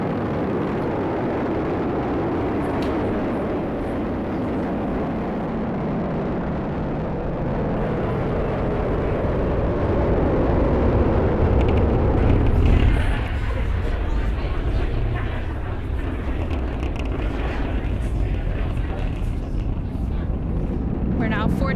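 SpaceX Falcon 9 rocket engines during the Crew-10 liftoff, a loud, continuous deep roar with wind-buffeted rumble that swells and then shifts in tone, with speech heard over it.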